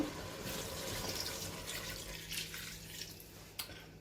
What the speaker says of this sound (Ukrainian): і додаємо склянку води